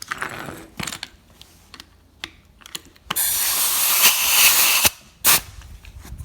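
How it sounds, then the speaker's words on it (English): An impact wrench torques the rear wheel bearing of a Dodge, giving a loud burst of hissing, rattling hammering for under two seconds, surrounded by scattered clicks and shop handling noises. "I'll find our smart impact and digitally torque it."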